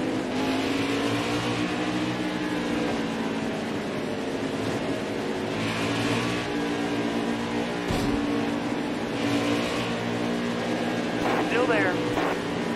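Race car engines roar continuously at Daytona in a stock-car racing video game, a steady loud drone with occasional passing surges under a spotter's voice calling out traffic.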